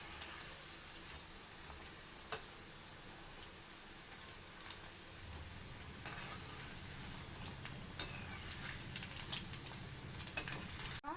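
Maida bonda batter balls with chopped onion and green chilli frying in hot oil, giving a steady soft sizzle with occasional small pops and crackles throughout, no voices.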